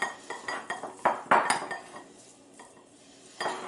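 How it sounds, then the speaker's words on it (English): A utensil scrapes and clinks against a bowl while mixing cream cheese stuffing for poblano peppers, a rapid run of close knocks and clatters that fades into quieter stirring, with one more clink at the end. "We're going to mix this up in here real well."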